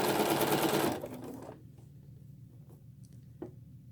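A sewing machine stitches a quilt tree block in a fast, close whirring run for about a second. Slower bursts of stitching follow, then a soft tap and quieter handling.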